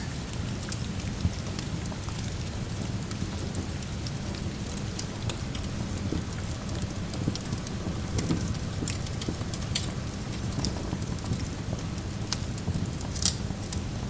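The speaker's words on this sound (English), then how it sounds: "Let the rain be the last thing you hear." Steady rain falls and patters on a surface throughout, with a low continuous rumble underneath and occasional sharper drops; no voices.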